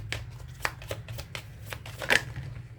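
A Lenormand (baralho cigano) card deck being shuffled in a series of crisp, papery riffling bursts with a louder flurry near the end, close up over a low steady background hum.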